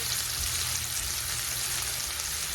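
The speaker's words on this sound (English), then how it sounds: "Sear them right, turn them over and sear them." Chuck roast sears in garlic, thyme, butter and bacon grease in a heavy pan, a dense continuous sizzle and crackle held close and even throughout, with no talking.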